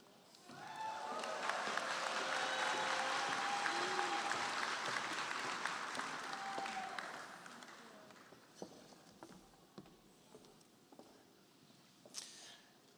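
A graduation audience for a College of Natural Resources ceremony bursts into applause, swelling quickly to a full, steady clatter of clapping for several seconds before tapering into scattered claps and quiet room noise.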